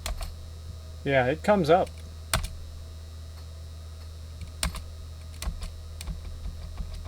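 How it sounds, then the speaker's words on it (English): Keys tapped on a computer keyboard during a product catalog search, a few sparse, sharp clicks spread out, with a brief spoken remark early on. "Let's type in preload."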